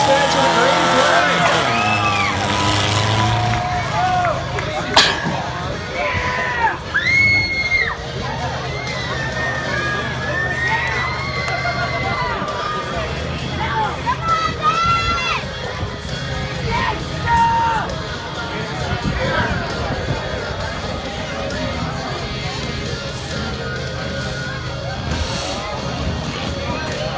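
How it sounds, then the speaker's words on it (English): Crowd of race fans cheering and roaring at a Tuff Trucks off-road truck event in Lebanon, Oregon, a loud sustained din mixed with music and announcer talk throughout. "let's hear it, race fans with the green flag."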